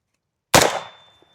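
A single loud AR-15 rifle shot fired at plywood from 7 yards, a sharp close crack that rings out and decays over about half a second, followed by a faint small tick.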